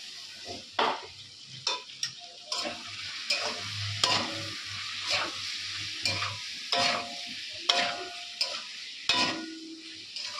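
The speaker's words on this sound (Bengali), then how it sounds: "এখন চিংড়ি মাছটা দিয়ে দিই।" Shrimp added over fried potatoes and spices in a pan, sizzling softly while a utensil stirs and scrapes in repeated sharp clicks and taps, close up and with no talk.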